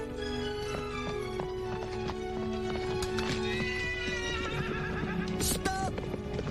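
A horse whinnies loudly near the end, after steady rhythmic hoofbeats clip-clop throughout over a bed of background music.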